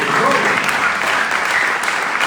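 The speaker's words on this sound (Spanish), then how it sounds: "Dele palmas al Señor." A church congregation claps together in steady, loud applause, filling the space with dense, continuous clapping.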